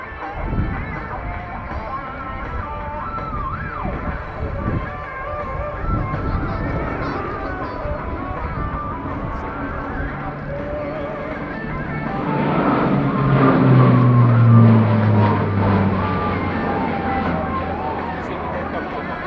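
A C-27J Spartan military transport aircraft flies an aerobatic display at an air show. Its engine drone builds and swells loudly toward the end, with a falling whine over a steady background murmur.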